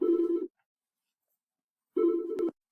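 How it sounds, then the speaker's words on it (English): A telephone rings twice in a quiet room, each ring about half a second long, the two spaced well apart with silence between them. "Let's do that again so that the phone doesn't interrupt."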